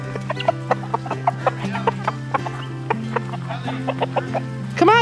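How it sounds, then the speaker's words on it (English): Chickens cluck close by in a steady series of short, repeated calls over a low constant hum, with a louder burst at the very end. "we can't go anywhere until we get the chickens to stay"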